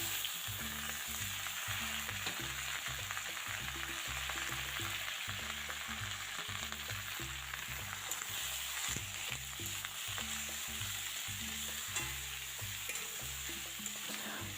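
Chopped bottle gourd frying in a pan, a steady close sizzle and crackle running throughout, with faint rhythmic low thumps underneath and no talking.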